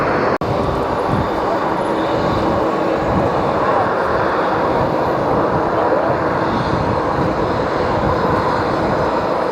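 Loud, steady roar of jet airliner engines at JFK airport, a broad continuous rumble filling the whole stretch with a sharp click near the start, heard from a nearby spotting position.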